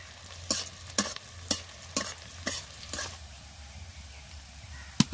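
Onions frying in a pan for a fish curry, a soft steady sizzle close by, broken by regular scraping stir strokes about every half second, then a sharp clink near the end.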